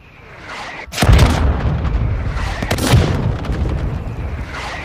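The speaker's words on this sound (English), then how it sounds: "Mortar support incoming!" Mortar strike explosions from the Warzone Mobile video game: a sharp, heavy boom at about one second, then a second big blast near three seconds, each followed by a long rumbling tail and a fainter burst at the end.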